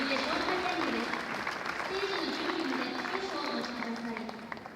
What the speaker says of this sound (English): the applause with which Sensei was awarded is the best proof of this